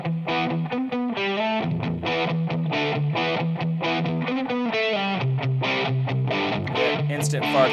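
An electric guitar plays through overdrive pedals on a Strymon-focused pedalboard, with choppy, rhythmic chords and short riffs that stay loud and gritty throughout.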